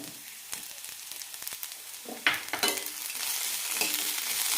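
Gooseberries, tamarind and coconut are stirred in a hot pan: scattered spoon scrapes and clicks over a soft sizzle that swells louder toward the end, close up, with no voices.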